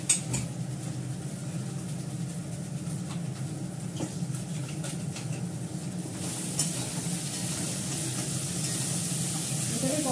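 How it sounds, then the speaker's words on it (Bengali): Cashews, poppy seeds, onion, green chilli and garlic sizzle steadily in hot oil, a continuous close frying hiss with occasional stirring clatter, brightening slightly near the end. "কাজু, পোস্ত, পেঁয়াজ, কাঁচা লঙ্কা, রসুন, এটা পুরোটাই ছেড়ে দিচ্ছি।"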